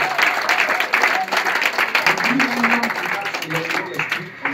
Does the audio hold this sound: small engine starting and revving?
no